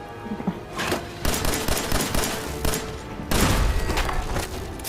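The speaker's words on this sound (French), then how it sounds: "C'est vraiment la tourelle du pauvre, ça, avec un caddie." A makeshift shopping-cart turret in Fallout 4 fires rapid bursts of gunfire, loud and dense, coming in several strong volleys with brief gaps between them.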